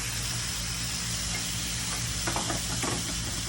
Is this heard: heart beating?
no